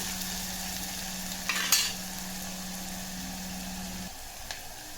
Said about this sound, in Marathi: बारीक चिरलेली मिरची, तेलामध्ये छान फ्राय करून घ्यायचं आहे.